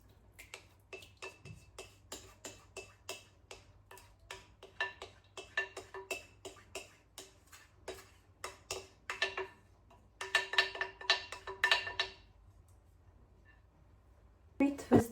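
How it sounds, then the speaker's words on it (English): A wooden spoon stirs prune mixture into flour in a bowl, giving a run of light, steady clicks and taps against the bowl that quicken into busier scraping near the end, with talk nearby. "stir the prune mixture into the flour"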